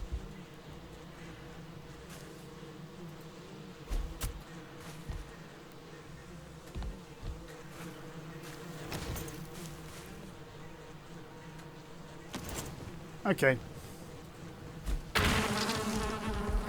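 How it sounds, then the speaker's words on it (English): Bees buzzing around a hive in Valheim, a continuous low droning hum under occasional thuds and clicks of gameplay, with a brief spoken word partway through. "Bees do have a tendency to attack you and poison you."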